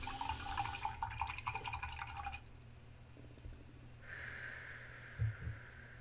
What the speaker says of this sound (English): I'm also going to wash out my brush